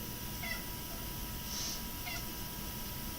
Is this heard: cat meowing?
yes